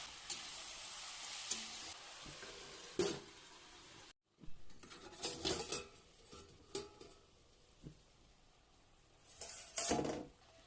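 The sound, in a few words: chopped vegetables frying with onion, salt, turmeric and cumin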